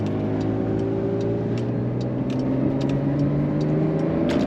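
Porsche 911 992 Carrera S with a 450-horsepower flat-six engine and sport exhaust, droning steadily and close at sustained revs throughout, with no talk over it.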